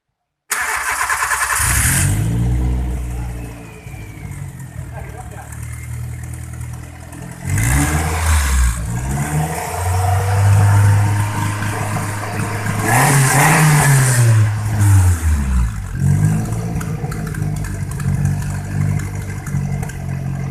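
A Toyota Avanza engine cranks and fires after ignition system repair, then revs up and settles in several rising and falling bursts, loud and close with no talk.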